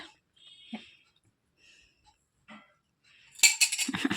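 A spoon clinks against a dish while milk is being fed: a few soft, scattered taps with quiet gaps between them, then a brighter, busier cluster of clinks at the close.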